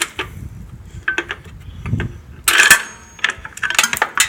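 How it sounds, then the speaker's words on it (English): A small 5mm hex bolt is undone from the tail light rail on a 2018 Indian Scout Bobber, giving close mechanical clicks and ratcheting rasps, quiet at first and then a denser, louder run of tool clatter toward the end. "I was able to undo a bolt right here that held the tail light into the rail"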